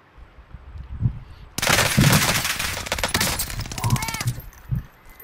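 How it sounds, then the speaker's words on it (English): Video game gunfire, a sudden loud burst of rapid automatic shots that keeps rattling for several seconds, with a player's voice speaking in the quieter moments before and around it. "Someone's shooting me."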